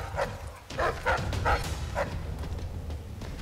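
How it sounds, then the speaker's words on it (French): Hostile dogs in the video game Dishonored 2 give a short run of barks and yips at mid distance, followed by low growling and whimpering over a steady ambient game background. "il y avait ces maudits chiens ici. Ces horribles chiens."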